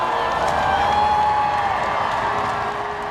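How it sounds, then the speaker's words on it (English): Crowd at a royal occasion shouting and cheering, a continuous dense roar of many voices that stays loud throughout, with scattered whoops rising above the mass. "Lots of shouts from the crowd here."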